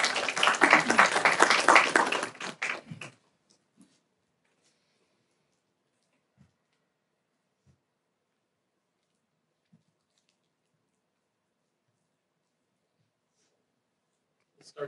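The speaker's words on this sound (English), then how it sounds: "Let's give him another round of applause." A short burst of audience applause for a speaker at a healthcare reform panel, fairly loud for about two seconds, then quickly dying away into near silence with a few faint clicks.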